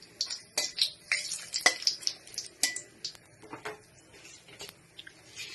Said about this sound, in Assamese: এতিয়া মই তেলত দিম তেজপাত, শুকান জলকীয়া 2টা আৰু গোটা গৰম মছলা অলপমান।